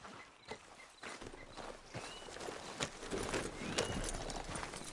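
A horse's hooves clip-clop steadily at a walking pace while ridden in Red Dead Redemption 2, close and moderately quiet, with faint outdoor ambience around them.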